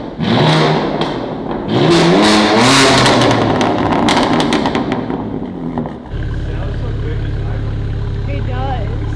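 A BMW G80 M3 Competition with an iPE exhaust revs hard close by in several rising and falling bursts, then settles into a steady, rumbling idle while voices talk over it.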